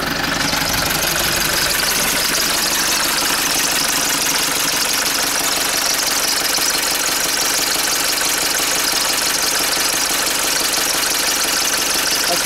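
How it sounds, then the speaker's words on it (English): An old Mercedes car engine idles steadily on its own, a continuous mid-pitched rumble with a faint rhythmic knock, close and fairly loud throughout. "That's what the engine sounds like"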